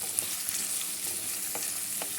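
Chopped onions and sliced green chillies sizzle in hot tempering oil, a steady close frying hiss punctuated by soft scraping strokes as they are stirred.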